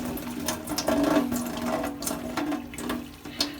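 Water pours and trickles steadily as cooked spaghetti noodles drain in a colander, a continuous splashing rush close by with no one speaking.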